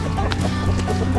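Chickens on a small farm clucking in a dense, noisy mix, with steady low rumble underneath and no talk.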